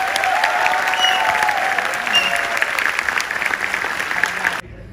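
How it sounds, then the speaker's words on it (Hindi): Audience at a casual meetup applauds loudly and steadily for about four and a half seconds, a dense wash of many hands clapping close by, then cuts off abruptly. "इनके लिए बहुत जोर से तालियां होनी चाहिए।"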